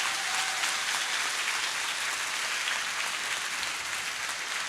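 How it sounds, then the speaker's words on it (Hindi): Loud, dense applause from an audience at a motivational session for JEE/NEET aspirants, a steady wash of clapping for the parents that holds evenly throughout. "एक बार माँ बाप के लिए फिर से जोरदार तालियां बजा दीजिए।"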